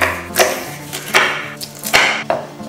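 A knife roughly slices food for a frittata on a board in four distinct strokes, spaced roughly evenly apart, close and fairly loud, with no talking.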